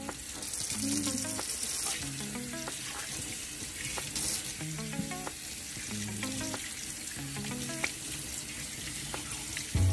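Tap water running steadily into a sink while hands are rinsed during a medical hand-washing demonstration, a soft continuous splash with faint clinking in the background.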